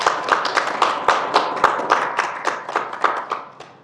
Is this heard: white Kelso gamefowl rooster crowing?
no